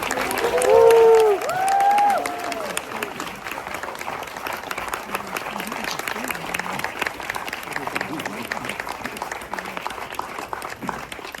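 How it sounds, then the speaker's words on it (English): A crowd at a documentary Q&A breaks into sustained applause, steady clapping filling the room, with some cheering and voices rising briefly near the start. "I just want to give an incredible moment of applause for that beautiful movie, Billy Shebar"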